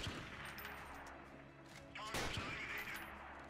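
Gunfire in the video game Freeman: Guerrilla Warfare during a factory defense battle, a few sharp distant shots with a louder burst near the middle, over a low background rumble.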